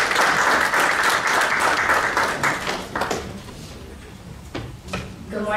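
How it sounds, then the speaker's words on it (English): A crowd applauds loudly for a few seconds, then the clapping thins out and fades as a voice and scattered noises follow. "let us have a hand clap for Danyale Dotson from Compton."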